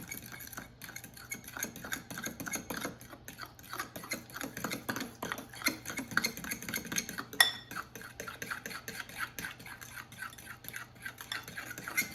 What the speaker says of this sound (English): Mix until everything is combined.